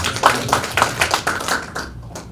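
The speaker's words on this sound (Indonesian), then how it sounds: "Kita beri tepuk tangan buat Tuhan." A church congregation claps in a steady rhythm of about eight to nine sharp, close beats that end abruptly.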